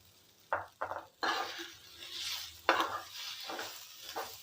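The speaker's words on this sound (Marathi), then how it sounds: "आपण जे आपण हे तीळ घेतलेत ना ते पण त्याच्याचमध्ये भाजून घ्यायचे आहेत" Sesame seeds and coriander stems roasting in a pan for a traditional Marathi dish, with several distinct scraping stirs and utensil clinks over a faint sizzle, fairly close.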